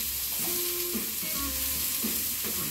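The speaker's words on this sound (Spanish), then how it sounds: "Vamos a hacer que se sofría la cebolla" Chopped onion sautéing in a hot pan, a steady close sizzle with soft stirring scrapes throughout, no voices.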